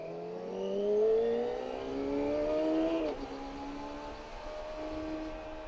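A Kawasaki ZX-25R sport motorcycle revs up through rising gears, a loud climbing whine that cuts off sharply and settles into a lower steady drone.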